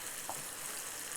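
Mutton and okra fry in a pan over a low flame, giving a steady, dense sizzle that holds evenly for a brief moment with no voices.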